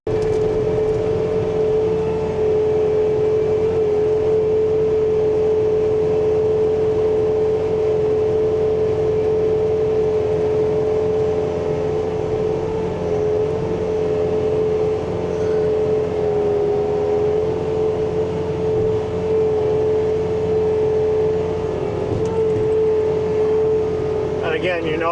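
A Bobcat T66 track loader with a snowblower attachment clears about a foot of fresh snow. Its engine holds a loud, steady, close-up drone for the whole stretch, with a slight shift near the end.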